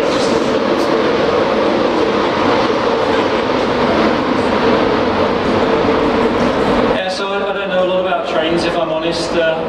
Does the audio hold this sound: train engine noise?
yes